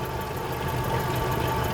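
Rough-running 1998 Honda CR-V engine idling with a misfire, as if firing on only three cylinders: a steady, close, rumbling idle with uneven vibration and no talking.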